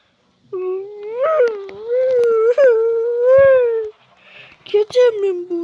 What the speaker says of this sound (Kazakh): Амбал қасқыр.